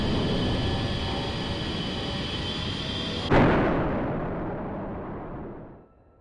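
In the DCS A-10C combat simulator, a steady roar gives way to the sudden loud blast of an AGM-65 Maverick missile striking a T-72 tank, its rumble decaying over several seconds.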